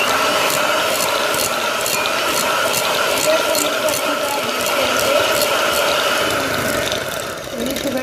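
An electric mixer beats butter and sugar for marble cake batter, a steady whirring buzz with a faint rhythmic ticking, close and continuous throughout.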